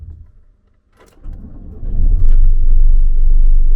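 A drift car's engine cranks after a short pause and fires, swelling into a loud, deep, steady rumble recorded close by.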